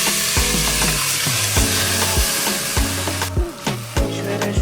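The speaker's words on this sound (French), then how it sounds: "on va sauter le poulet avec sa marinade et mettre les oignons plus le piment" Chicken sautés with its lemongrass marinade, onions and chili in a loud, close sizzle, punctuated by rhythmic stirring strokes.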